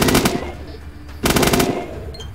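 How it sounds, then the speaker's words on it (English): RPK machine gun in the ATOM RPG video game firing two short bursts, each a rapid crackling string of shots with a brief pause between them, loud and close. "So, we can make two short bursts,"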